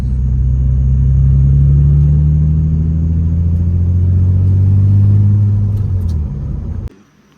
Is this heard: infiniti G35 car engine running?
yes